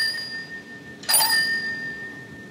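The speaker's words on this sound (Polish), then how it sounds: "Krótko po słowie 8 rozlega się ostry dźwięk dzwonka do drzwi." Sharp doorbell ringing in an apartment scene from the Polish film Pętla, a single bright metallic ring that cuts in suddenly over quiet room tone and sustains as a clear pitched tone.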